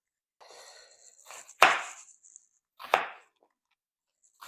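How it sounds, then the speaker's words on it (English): A knife chops through an onion on a cutting board in a few distinct sharp strokes, close and crisp, with brief scraping between cuts and no talking. "when dicing your onion, I like to leave the root part on there"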